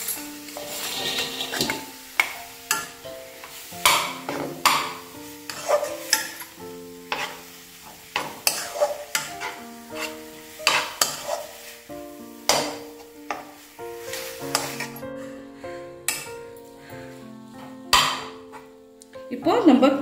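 A spatula stirring and scraping oil-free drumstick leaf stir-fry with garlic in a pan, repeated close scrapes and taps with a faint sizzle, running under someone talking throughout.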